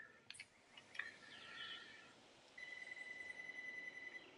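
A telephone rings faintly in the background of a room with a few short electronic warbles, then a steady trilling ring that carries on to the end.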